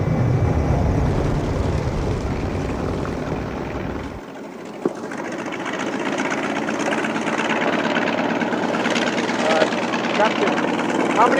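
Propeller-driven T-28 bomber aircraft flying over the mountains of northern Laos, a loud steady engine drone throughout with a brief dip midway, the low rumble dropping out as the plane's sound shifts.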